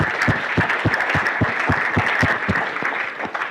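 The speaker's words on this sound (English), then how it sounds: "Let's have a round of applause for all of them." An audience at a hackathon kickoff applauds the event organizers, a steady, fairly loud round of many hands clapping together with a light crowd murmur, no voices over it.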